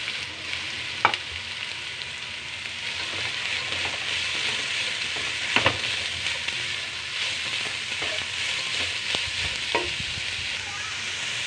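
Grated carrots and beans stir-frying in a pan, a steady close sizzle throughout with a few soft clinks of stirring now and then, and no talking.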